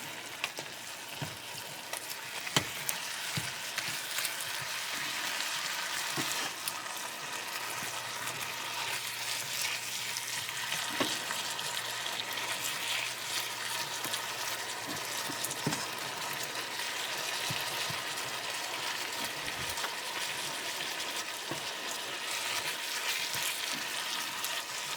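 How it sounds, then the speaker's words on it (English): Ground meat browning in a pan for pasta fagioli, a steady dense sizzle that runs unbroken and fairly loud, with occasional faint clicks. "It's already looking very good. Our meat is browning up."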